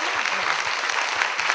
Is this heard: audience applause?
yes